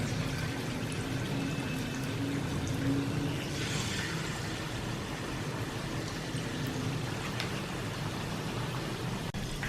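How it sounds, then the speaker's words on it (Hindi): Chicken fries in oil in a kadai over a medium flame, giving a steady dense sizzle and crackle that holds at an even level throughout with no talking. "ऑयल मैंने कढ़ाई में डाल दिया है और इसको फ्राई करते हैं"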